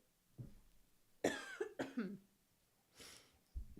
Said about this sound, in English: apologies for the coughing fit